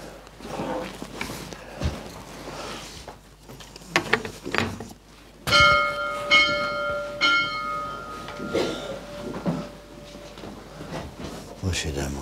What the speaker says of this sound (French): Sonner la cloche